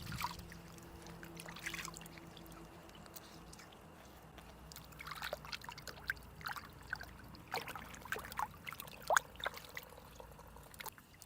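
Sweet potatoes are washed by hand in a small, clear stream, giving faint trickling water and soft intermittent splashes and sloshes, quiet and close, growing busier toward the end.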